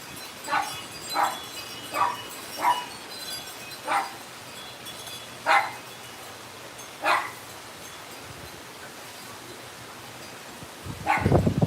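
A dog barks about seven times at irregular intervals of one to two seconds, single sharp woofs at moderate distance over quiet background, followed by rustling and handling noise at the end.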